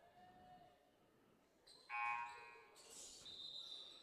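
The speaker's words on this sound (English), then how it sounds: "there was a buzzer right as the serve went from Wing" A buzzer sounds in a gym during a high school volleyball match, sharp electronic bursts heard at a distance amid faint crowd noise.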